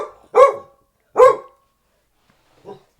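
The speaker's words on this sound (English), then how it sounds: "What are you barking at?" A dog barks twice in loud, close bursts about a second apart, followed by a fainter, shorter bark, with no talk over it.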